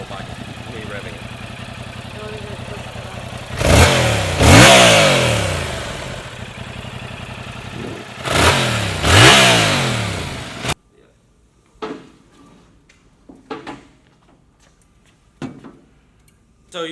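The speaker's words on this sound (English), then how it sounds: "Me revving it." A Yamaha R7 motorcycle on its stock exhaust revs twice, loud and close over a steady idle, then the engine cuts off and only faint knocks and brief voices remain.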